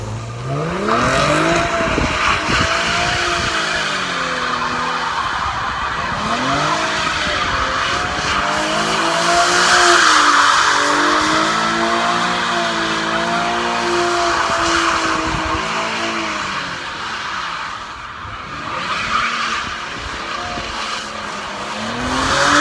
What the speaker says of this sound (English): And that concludes our burnouts for the day.